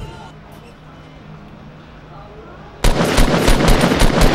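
Rapid gunfire from a long-range engagement in Fortnite, a sudden burst of sharp repeated shots after a quiet stretch, loud and close in the mix, with players talking.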